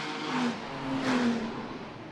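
Toyota GT4 race cars on an outlap at the Macau Grand Prix whir past at moderate distance, engines rising and swelling in a brief revving sweep.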